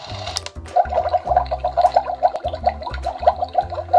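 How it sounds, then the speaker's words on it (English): A toy stovetop plays an electronic boiling-water effect, a bubbling, gurgling loop of rapid pops and burbles over a low electronic hum, steady and close. "The next circle is the sound of boiling water."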